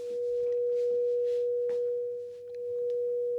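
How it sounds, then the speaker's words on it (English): A steady pure electronic sine wave tone from a voltage-controlled function generator holds at one pitch throughout, loud and unwavering, with faint clicks and background noise around it. "And there is the sine wave."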